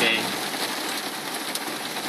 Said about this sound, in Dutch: Even uitzitten aan die regen.